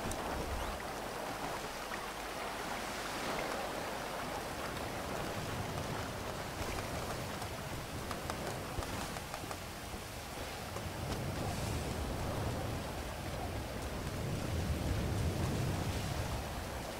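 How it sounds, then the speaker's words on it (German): Heavy ocean waves surge and wash in Grand Theft Auto V, a continuous broad roar of surf that swells and recedes at steady loudness with no talk over it. "Oh, echt heftige Wellen."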